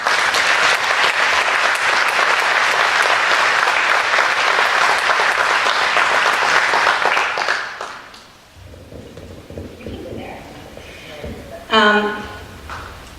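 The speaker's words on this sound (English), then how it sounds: "Please give her a round of applause." Audience applause at a dessert concert event, loud steady clapping from a crowd lasting several seconds before fading out, followed by quieter room sounds and a brief voice.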